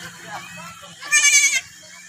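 Goats bleat in a quavering burst over steady background noise, fairly close, with faint voices in the distance, on a farm in Oriental Mindoro, Philippines.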